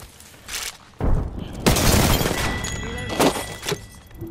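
Frag grenade and thermite blasts in the Apex Legends battle game: loud booms and crackling bursts arrive one after another over about four seconds, with sustained fiery, gunfire-like noise between them and brief game voice lines.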